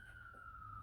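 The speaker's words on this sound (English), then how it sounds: "Some sort of siren." A siren wails faintly in the distance as a single steady tone, with no voices over it.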